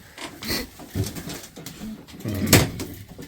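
Racing pigeons handled at a loft, with soft coos, wing flutters and shuffling close by, then a loud flapping burst partway through, while people talk intermittently.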